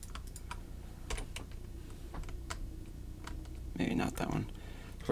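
Computer keyboard keys tapped during 3D car modeling work, a scattered run of light clicks and short bursts at close range, with a louder flurry near the end over a low steady background hum.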